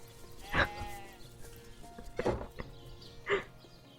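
A sheep in Divinity: Original Sin bleats three times, short wavering calls spaced a second or so apart, fairly close and alone over a quiet game backdrop.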